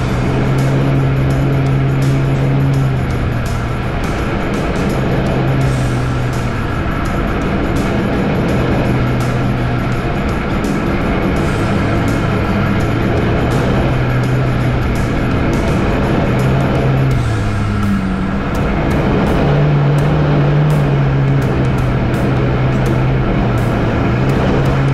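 A 4x4 in low range with the diff lock engaged labours up a slippery bush track, its engine droning loud and close for the whole stretch while the revs rise and fall with the climb.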